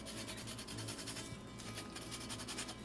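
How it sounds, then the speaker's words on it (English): A lemon is zested into a pot with a makeshift tool, giving a quiet, repeated rasping scrape in short, rhythmic strokes, faint and close. "we're gonna zest one lemon into the pot with this"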